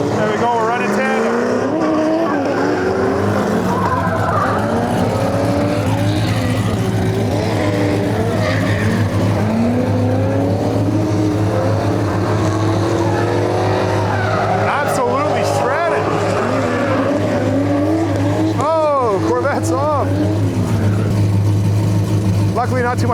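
Two drift cars run tandem at a grassroots Midwest drift event: loud, continuous engine roar that swells and falls through revs, mixed with sustained tire squeal and skidding.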